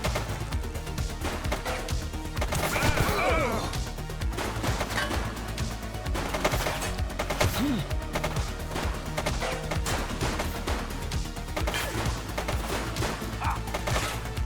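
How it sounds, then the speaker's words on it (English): Dense, continuous gunfire from a shooter, loud rapid cracks and bursts layered over a busy, noisy scene for the whole stretch, with no clear pauses. "He's shooting!"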